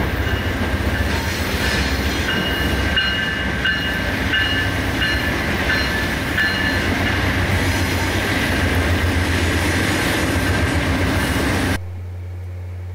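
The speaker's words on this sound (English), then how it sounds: "watch closely as the locomotive goes under the bridge." A train locomotive rolls under a bridge, a loud continuous rumble with squealing wheels and a rhythmic clickety-clack, sustained for about twelve seconds before dropping abruptly to a low hum.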